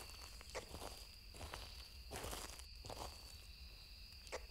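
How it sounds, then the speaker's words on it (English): Footsteps in the game Phasmophobia, heard from a forest at night: several soft, irregular steps crunching over a steady droning ambience with a faint high whine, at moderate distance. "I hear footsteps from the forest."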